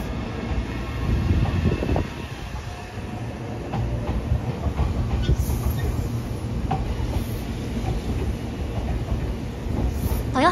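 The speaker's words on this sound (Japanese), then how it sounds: "少し遅れて、名鉄線、 急行も出発していきます。" A Meitetsu express train departs Toyohashi station with a continuous rolling rumble and faint clickety-clack of wheels over rail joints, with scattered squeals and clanks, close and steady throughout.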